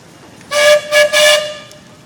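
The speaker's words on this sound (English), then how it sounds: "Bruce, the engineer up there, do you got a whistle?" A 1906 Russell 12 horsepower steam traction engine at a steam show gives three loud close whistle blasts, the first and last held longer and a short one between, with quiet in the pauses.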